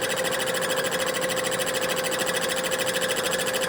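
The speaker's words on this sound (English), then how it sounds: "we're milling some off the table, the rotary table piece" A milling cutter takes a shallow cut, about five thousandths of an inch, off the rotary table piece of a miter saw being tuned up. It makes a steady, continuous mechanical whine and buzz at even volume, close up, with no talking.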